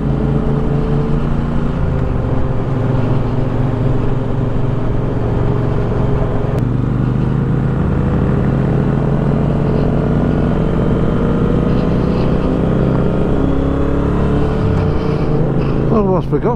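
A Triumph Bobber Black motorcycle, fitted with an Akrapovic exhaust, riding along a road; a loud, steady engine drone with shifting pitch and wind noise stays close throughout, and a rider speaks over it at times.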